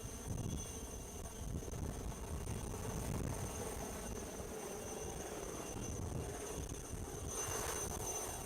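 A helicopter flies over the Lavaux vineyards in Switzerland, making a steady, moderately distant rotor and engine drone with no one talking.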